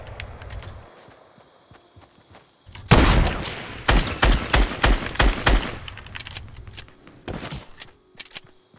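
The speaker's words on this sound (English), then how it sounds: "That guy just sniped someone, though." Gunfire in the battle royale video game Fortnite, including sniper shots, bursts into a dense run of loud, sharp shots about three seconds in, then continues as scattered, fading reports over game ambience.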